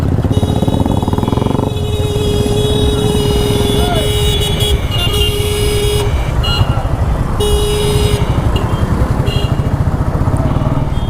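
Vehicle horns toot repeatedly amid steady road and traffic noise during a night ride, with several short honks spread across the scene.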